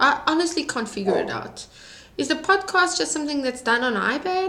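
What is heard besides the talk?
None of the usual background noises is heard.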